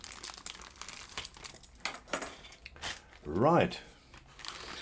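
Crinkling of plastic packaging around car parts for a 1966 Oldsmobile 442, close and intermittent in short rustling bursts, with a brief spoken word and a quick whistling sound partway through.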